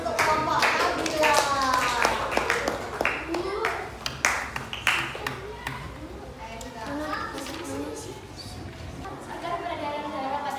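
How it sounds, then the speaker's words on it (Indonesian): A school class claps for a student group, with rhythmic hand clapping mixed with children's voices and chatter, fairly loud at first and easing off toward the end. "beri tepuk tangan untuk kelompok Nabila"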